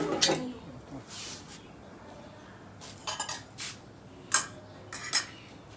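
Dishes and utensils clatter in a home kitchen as rice is moved into a lidless container, a few sharp metallic clinks and scrapes spaced apart over quiet background.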